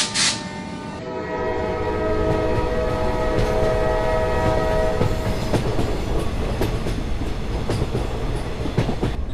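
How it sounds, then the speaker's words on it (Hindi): A train pulls into a railway station in an animated Hindi story, sounding a loud horn at the start, then rumbling and clattering steadily along the rails with rhythmic clicks. "कुछ देर बाद उनकी ट्रेन आती है और वे लोग अपनी ट्रेन में बैठ जाते हैं"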